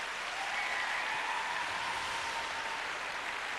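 A figure skating arena crowd applauds steadily after a men's long program, a dense, sustained wash of clapping heard from a distance with no talk over it.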